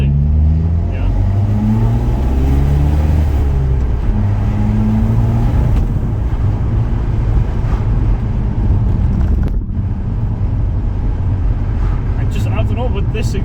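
A straight-piped four-cylinder BMW 123d diesel engine with 240,000 miles revs loudly and steadily with a rough, rumbling exhaust note, while a person talks over it throughout.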